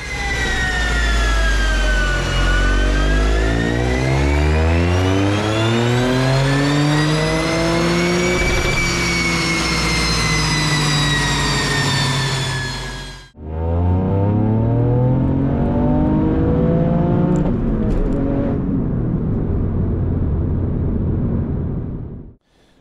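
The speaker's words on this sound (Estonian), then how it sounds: "Meil ei olnud midagi muud teha kui ruttu tünosse tagasi, auto kinni, test katse" Engine in a Toyota-type performance car pulling hard on a dynamometer, a loud sustained roar rising steadily in pitch, then cutting off abruptly before a second shorter rising pull and a sudden stop.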